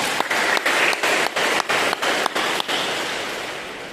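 Church congregation applause at a Sunday sermon, dense clapping chopped into short even bursts by regular brief gaps, then tapering off toward the end.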